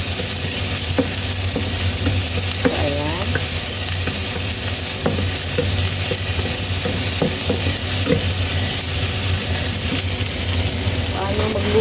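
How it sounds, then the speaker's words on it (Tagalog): Tomato and cabbage sizzle steadily in a pan while being stirred, with a loud, continuous frying hiss and repeated scraping strokes. A voice can be heard faintly in the background. "So now, ilunod natin yung tomato and cabbage."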